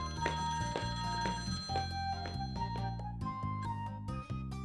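Telephone ringing in the PS2 game Shikigami no Shiro, a steady electronic bell pattern repeating in quick bursts over a layered game music background, clear and fairly loud with no talk.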